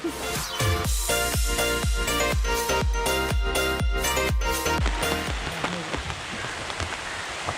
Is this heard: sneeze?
no